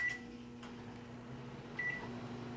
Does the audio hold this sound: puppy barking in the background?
no